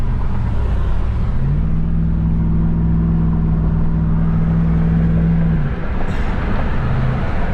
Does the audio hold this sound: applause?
no